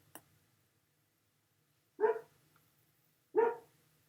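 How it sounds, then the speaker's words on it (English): A German short-haired pointer barks indoors, two single loud barks spaced well apart against a quiet room, preceded by a faint click. "I have a German short-haired pointer"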